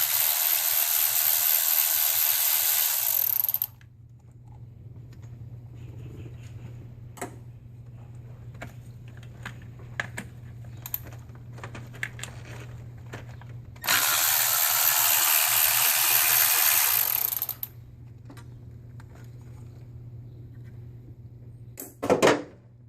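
A ratchet wrench loosens coil bracket bolts on a Vortec V8 engine, with two long bursts of rapid, close ratcheting and scattered metallic clicks and taps between them. No talk.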